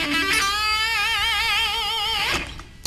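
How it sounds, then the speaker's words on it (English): Distorted electric guitar lick in a rock lesson: a sustained, heavily overdriven note with wide wavering vibrato, held for about two seconds, loud and close, then cut off by a short picked attack. "Try it again with some distortion."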